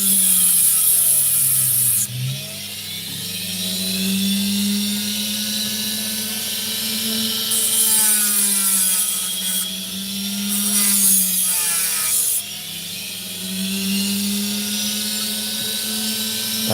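A saw cutting rough opal gives a steady, loud grinding whine with a strong low hum that runs throughout, dipping briefly and then resuming. No voices are heard.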